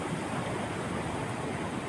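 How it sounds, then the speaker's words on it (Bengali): Night sea at Digha beach roars as a dense, steady wash of surf, a continuous broadband rush with no distinct breaks, heard alone without any talking. "আর ওই যে সমুদ্র"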